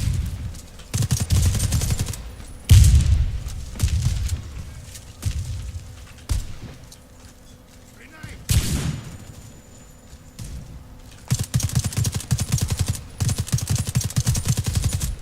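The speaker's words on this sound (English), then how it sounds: "I am shooting his head!" In a Warface match, bursts of automatic gunfire come in loud, rapid volleys, with short pauses between them, single heavy shots, and a dense sustained stretch at the end.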